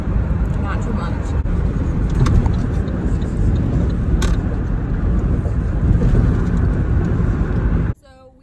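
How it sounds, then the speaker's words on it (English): Steady, close road rumble inside a car driving through light traffic on the way into Philadelphia, holding even for about eight seconds before cutting off sharply. "There's a little bit of traffic"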